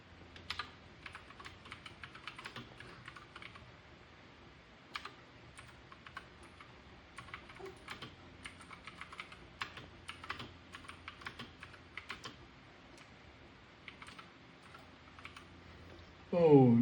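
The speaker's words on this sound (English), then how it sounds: "Let me type it out." Keys clatter on a computer keyboard in uneven bursts of soft clicks, close but faint, continuing through the stretch with brief pauses before a louder sound at the very end.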